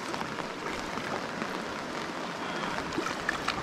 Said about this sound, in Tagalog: Ilog yun. Parang malalim po yan.